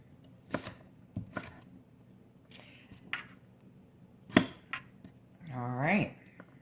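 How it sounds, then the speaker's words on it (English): A knife dices a sweet potato on a cutting board in a series of sharp, irregular chops, close and fairly quiet, with brief pauses between cuts and a voice speaking near the end. "it really is to dice up a sweet potato like this"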